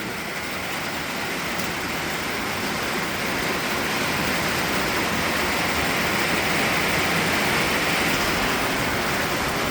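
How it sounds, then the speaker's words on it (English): Heavy rain pours down in a dense, steady roar, loud and unbroken throughout, with no voices over it. "It's pouring!"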